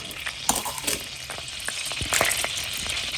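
Cloves and cardamom sizzle in a mix of oil and ghee for paneer butter masala, a steady close crackle with bursts of sharp pops and spatters throughout, no voices.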